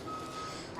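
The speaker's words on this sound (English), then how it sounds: "Something beeping." A truck's reversing alarm beeps faintly in the distance as a steady high tone against outdoor background noise at a ham radio convention.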